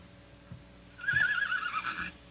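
A radio drama sound effect of a horse neighing: a single loud, shrill, wavering whinny after a few soft thuds, heard alone.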